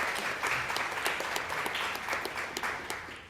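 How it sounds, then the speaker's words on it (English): An audience at a town hall meeting applauds a nominee, a dense, steady clapping from many hands that fills the room throughout. "Let's give her a round of applause for her nomination."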